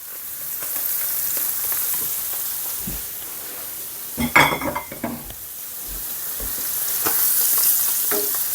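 Chorizo and halloumi fry in a pan as garlic goes in, giving a steady close sizzle with a burst of louder crackling and stirring, plus a few utensil scrapes against the pan.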